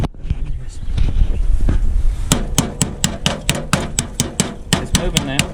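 Hammer blows beat on a forklift radiator cap, starting with rustling and some clatter, then a close, loud series of sharp metallic strikes in a steady, fairly quick rhythm.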